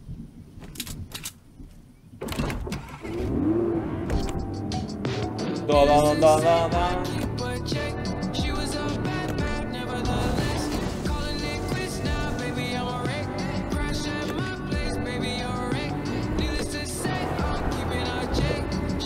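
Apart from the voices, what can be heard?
car driving in video game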